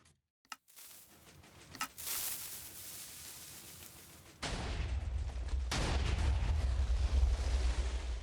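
A TNT parity cannon in Minecraft fires. A few sharp blasts come at the start, then a sustained roaring rumble steps up louder partway through and continues as a heavy, booming wash. No voices are heard.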